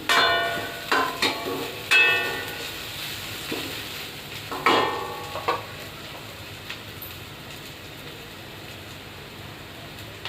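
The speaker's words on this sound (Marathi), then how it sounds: "हे बघा हलवत राहायचं थोड्या थोड्या टायमाने. जरासा कांदा याच्यात भाजला पाहिजे." Onions frying in oil in a pan for Marathi mutton rassa, giving a steady soft sizzle broken by sharp scraping clinks as a spatula stirs them every few seconds.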